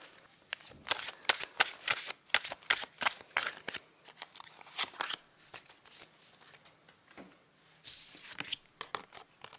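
Oracle cards are shuffled and drawn by hand in a series of quick papery riffles and flicks, close and fairly loud, with a brighter burst of card noise near the end and no talking.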